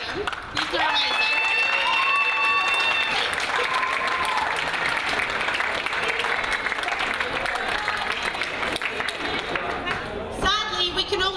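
Sustained applause from an awards ceremony crowd, steady and loud throughout, with cheering and a few raised voices mixed in.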